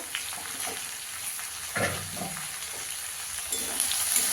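Cumin powder and Kashmiri chilli powder fry in hot oil while being stirred, a steady close sizzle with a few louder scraping bursts of mixing and no voices.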